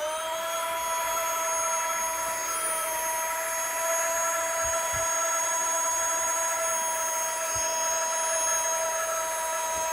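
A small wireless pump sucks the air out of a travel vacuum bag with a continuous, close, whining motor drone that holds steady throughout and has a few faint thumps underneath.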